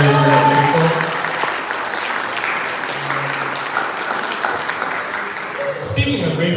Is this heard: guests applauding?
yes